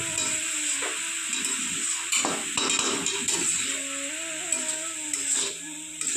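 Fried rice being stirred and tossed in a pan, a steady close sizzle of frying under repeated scrapes and clinks of a utensil against the metal.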